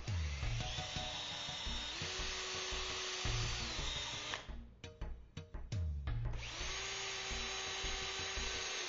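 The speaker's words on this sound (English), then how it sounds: "pre-drill with the 1/8 inch drill bit" Power drill with a 1/8 inch bit pre-drilling holes during a gate installation, a loud whirring motor running steadily, briefly stopping and stuttering in short bursts, then spinning up again.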